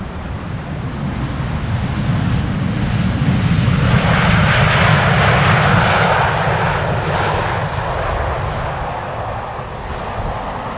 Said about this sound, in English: Dreamliner coming in indeed.